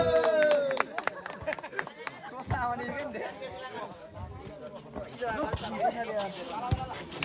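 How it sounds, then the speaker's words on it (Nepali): An audience claps loudly at a Raikot volleyball event, a burst of applause mixed with crowd chatter while an announcer speaks over it. "उहाँलाई जोरदार ताली"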